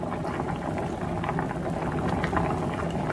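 Rice liquid boils steadily in an electric skillet for no-fry fried rice, a continuous close bubbling and hiss with no speech.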